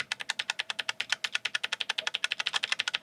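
Rapid, rhythmic clacking of keys on a mechanical computer keyboard, close and crisp, steady keystrokes with no talking.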